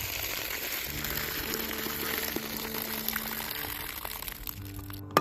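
Water runs steadily over drained canned beans as they're rinsed, a close, continuous splashing pour that thins out before a clank at the end.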